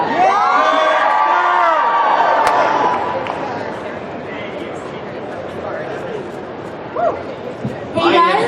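A large convention audience at a comic expo cheers, whoops and yells loudly and continuously, with the roar fading somewhat midway and brief sharper shouts and voices near the end.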